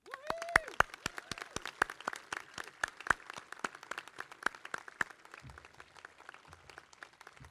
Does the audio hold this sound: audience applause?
yes